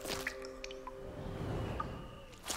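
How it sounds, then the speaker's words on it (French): Cartoon water trickles from a river source blocked by rocks, quiet dripping and squishy liquid sounds over a soft, low background. "On dirait de l'eau qui coule."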